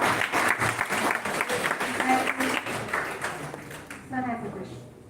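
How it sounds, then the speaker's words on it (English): Audience applause for a group at a national-level oratory contest's group discussion round, steady clapping filling the hall for about four seconds before tapering off, with voices mixed in. "A big round of applause for group 1."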